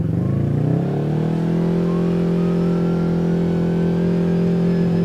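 A close, loud Kawasaki Teryx KRX 1000 side-by-side engine with an MBRP slip-on exhaust revs up with a deep, throaty note, then settles into a steady rumbling drone as it holds speed on a trail.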